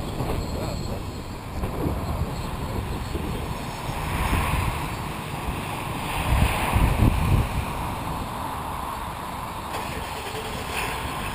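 Strong wind roars and buffets around a Lotus RC T580P+ hexacopter drone flying with a DJI Naza controller on a windy day. A constant thin motor whine sits under heavy, gusting low rumble.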